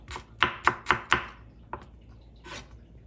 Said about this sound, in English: So everything will be thinly cut like that.